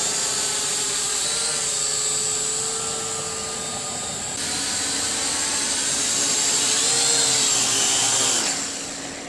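A Syma X8 quadcopter drone hovers in place on a low battery, its rotors giving a steady, loud high-pitched whine that wavers slightly in pitch before cutting off near the end.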